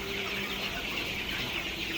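A flock of chickens clucks softly and steadily over a constant background hum, with no single call standing out.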